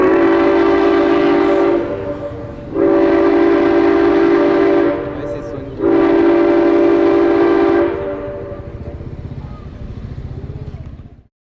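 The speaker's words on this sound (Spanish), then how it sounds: "al escuchar ese nostálgico silbato hacer eco en los talleres" A train whistle sounds three long, loud blasts with short gaps, the last one fading away, echoing through railway workshops in San Luis.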